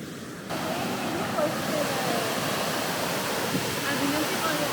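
A waterfall pours into the sea, heard from the side with the better view, as a loud, continuous broadband rush of water that swells in after a quieter first half-second and stays steady throughout.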